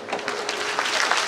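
Audience clapping at a Shrimad Bhagwat Katha religious discourse, a brief dense burst of applause close and steady for just over a second.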